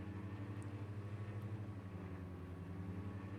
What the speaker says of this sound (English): The RPM increases.